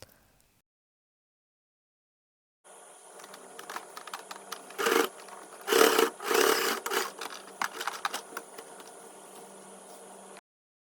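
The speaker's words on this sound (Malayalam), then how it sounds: "ഇനി നമുക്കിതിൻ്റെ രണ്ട് സൈഡും ഇങ്ങനെ സ്റ്റിച്ച് ചെയ്ത് കൊടുക്കണം" A sewing machine stitches along both sides of a bag made from leftover fabric, a steady close whirring hum that starts suddenly after near silence, with surging louder bursts midway before stopping abruptly.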